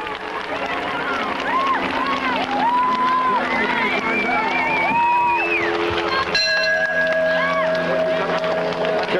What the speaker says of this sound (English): Once he rings the bell, Graves will finish in 3rd place